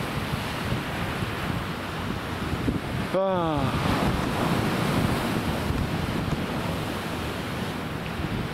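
Sea waves wash steadily onto the shore under strong wind buffeting the microphone, a continuous loud roar broken briefly by a short voiced sound partway through.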